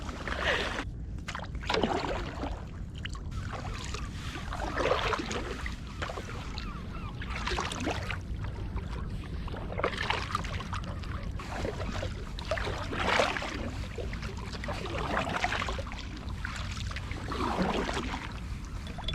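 A kayak floats on the Firth of Forth, with water lapping and sloshing against the hull in gentle, irregular surges under a steady low rumble of wind.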